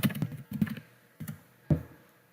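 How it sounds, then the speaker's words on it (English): Short clusters of computer keyboard keystrokes tap out a search topic, several quick presses in small bursts with pauses, close and clear in a quiet room. "If you go into one of them and type in a general topic"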